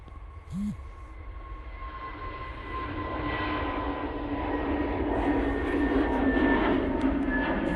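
An Emirates airliner passes overhead with a broad jet roar that swells steadily from moderate to loud, steady engine whines running through it and no voices.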